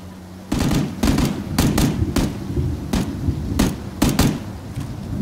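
Repeated gunshots ring out in a battle royale video game match, sharp cracks in irregular bursts and single shots over a steady background rumble.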